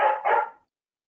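Two quick, loud indoor dog barks in close succession, followed by silence.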